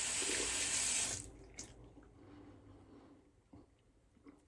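A sink tap runs water during a wet shave, a loud steady rush for about a second that cuts off, followed by faint drips and small handling sounds in a quiet room.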